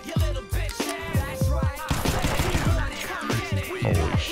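Five-SeveN pistol firing in CS:GO, a rapid string of sharp, loud shots in an uneven rhythm, with ricochet ringing and further gunfire mixed in throughout.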